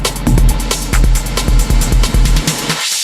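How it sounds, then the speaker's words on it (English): Punchy electronic dance beat with steady kicks, then the music cuts and a bright, hissy reverb tail from a Pioneer DJM-900 Nexus DJ mixer rings on and fades out alone. "So we've got a nice high-pitched tail there."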